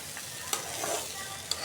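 Ingredients for khichuri fry in a pan with a continuous close sizzle, and two sharp clinks of a spoon stirring against the pan.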